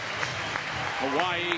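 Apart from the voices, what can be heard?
fans applauding the team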